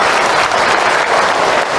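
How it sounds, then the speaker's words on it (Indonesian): An audience at an Islamic lecture on Isra Mi'raj gives a dense, loud round of applause that carries evenly from start to finish, with no one speaking over it. "Tepuk tangan buat bunda yang berkah."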